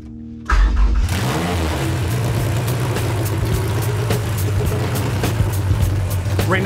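A Camry engine swapped into an MR2 cranks and catches after a short silence, then idles and revs loudly with a rough, rising and falling drone, close and unmuffled.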